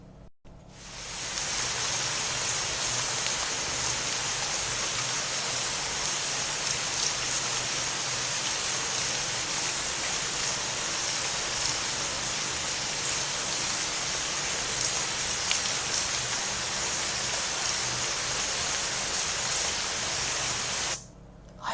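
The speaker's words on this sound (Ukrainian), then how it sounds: "Так, дітки, це шум дощика." Steady rain falls continuously, an even hissing patter that fades in at the start and cuts off at the end.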